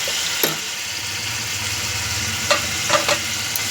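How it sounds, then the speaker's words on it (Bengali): Spice paste of turmeric, salt and ground dried chili sizzles and fries in a pan, a steady close hiss broken by a few sharp utensil clinks and scrapes from stirring. "এটা একটু কষিয়ে নেব।"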